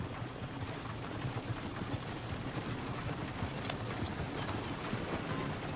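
Horse hooves clip-clop faintly at an even pace in the Red Dead Redemption 2 video game, set in a soft, continuous wash of background noise.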